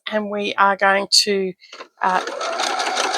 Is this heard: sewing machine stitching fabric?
yes